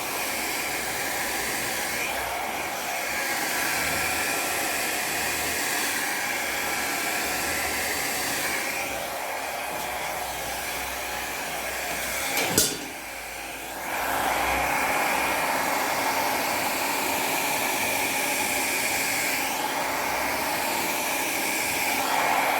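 A hair dryer blows steadily and loudly at close range over an acrylic blossom pour, a continuous airy roar that briefly dips with a knock before resuming.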